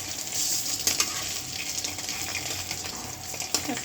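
An egg fries and sizzles in a hot pan on a gas stove, a steady close crackling hiss with a few sharper pops.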